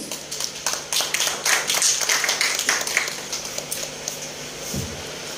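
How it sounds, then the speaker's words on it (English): Applause at the Y's Service Club of Pokhara installation ceremony, loose scattered clapping from a small audience, sharp individual claps that thin out and fade toward the end. "Ladies and gentlemen, let's have a huge round of applause."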